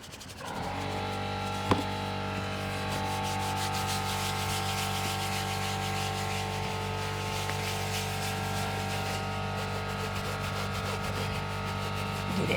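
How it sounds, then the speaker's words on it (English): A stiff boar's hair brush scrubs the interior of a smoker's car, including a speaker grill, with a steady close rubbing and scratching texture over a constant motor drone, one sharp knock early on. "with our big old boar's hair brush so we can get this done a little bit faster"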